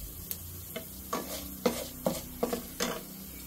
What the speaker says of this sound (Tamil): இந்த கடுகையும் போட்டுக்கலாங்க. எல்லாம் பொரியட்டும்.